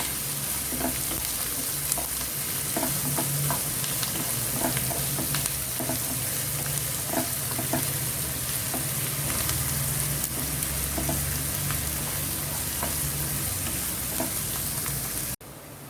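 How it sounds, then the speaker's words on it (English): Onions fry in a pan for misal pav, a steady close sizzle with a regular pattern of spatula stirring and scraping throughout, no voices. "we'll fry them until this onion becomes soft."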